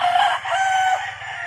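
A rooster crows loudly and close among chickens at a backyard game farm in Compostela, Cebu, one drawn-out crow over a soft clucking background.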